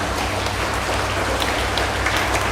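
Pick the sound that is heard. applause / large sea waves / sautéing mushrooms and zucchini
applause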